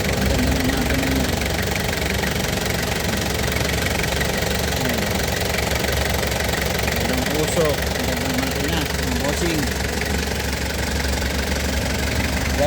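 A 2001 Toyota Commuter van's diesel engine idles steadily with a knocking, rhythmic clatter, close and continuous, while someone talks over it.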